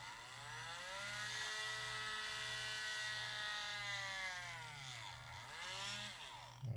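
A power drill bores holes into a plastic Spider-Man action figure under repair, a sustained high whine with steady pitch that dips twice near the end as the bit loads and releases, close and loud.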